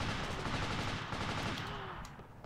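Rapid gunfire in the Army Men: Team Assault video game, a dense, loud burst of overlapping shots that fills the whole moment and fades slightly at the end.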